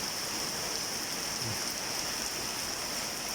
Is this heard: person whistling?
no